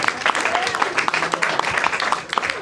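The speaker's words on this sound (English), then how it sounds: "Clap it up for her" A small open-mic crowd at a gallery comedy night claps for a comedian leaving the stage, a brief burst of scattered applause with a few distinct, close claps standing out against the roomy crowd.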